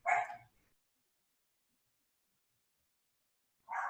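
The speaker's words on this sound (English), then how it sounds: "oops, my dog's barking," A dog at home gives a short burst of barking, then falls silent for a few seconds before another bark starts, close and moderately loud.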